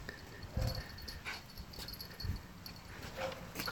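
A Siberian Husky makes faint, close sounds: a couple of short soft whimpers or yips among quiet rustling and scratching, no talking.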